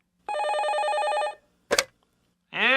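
A telephone bell rings in a steady electronic trill for about a second, stops, then a short clatter follows and a brief voice starts at the end; a radio drama sound effect in a Korean call-in story program.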